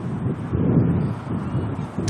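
Wind buffeting the microphone at an outdoor plane-spotting spot near Auckland airport, a steady low rumbling roar with gusty swells lasting the whole time, loud and close.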